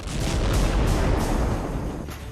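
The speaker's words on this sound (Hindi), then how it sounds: "उसके फौरन बाद एक बेहद भयानक धमाका हुआ और सब कुछ खत्म हो गया।" Massive ammonium nitrate warehouse explosion at the Beirut port: a loud, sustained rumbling blast with dense low-end roar and rolling booms throughout.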